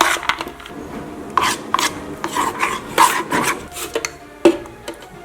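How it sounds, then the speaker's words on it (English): A utensil stirring melted white chocolate in a bowl for Halloween treats, giving close scraping and rubbing strokes with a few sharper clinks, uneven in rhythm and with no talking. "Let's give this chocolate a stir."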